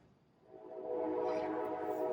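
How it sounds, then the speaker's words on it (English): A sustained train horn blares steadily, swelling louder after a soft start and holding a rich, droning tone. "that loud horn, that train horn, is a confirmation right there"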